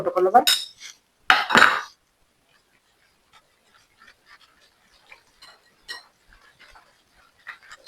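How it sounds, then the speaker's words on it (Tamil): Cheese is stirred into khoya in a bowl for a simple breakfast dish. A couple of loud knocks open the clip, then a spoon gives faint, irregular clinks and scrapes against the bowl in a quiet room. "சீசையும் கலந்து நல்லா கலந்து விட்டு கொள்ளவும் இந்த கோவாயோட கலக்கக்கூடிய மாதிரி"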